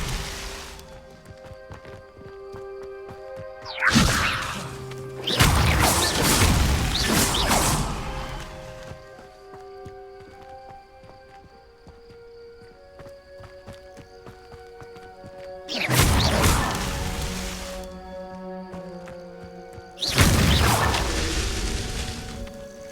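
Spells are cast in Hogwarts Legacy during a Merlin trial, heard as a few loud bursts of whooshing, crackling magic effects separated by quieter stretches of sustained game music.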